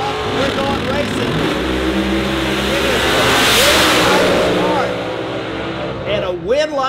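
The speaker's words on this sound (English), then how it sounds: "The revs come up. We're going racing." A Pro Mod and a Fuel Altered drag race car rev their engines at a 2015 drag strip showdown, loud rising and falling engine roars with a commentator talking over them.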